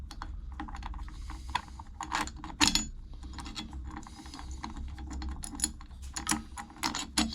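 Bolts being fitted and fastened on the tailshaft of a VZ Adventra, heard as a series of close, sharp metallic clicks and ratcheting taps spread irregularly over a low steady background hum.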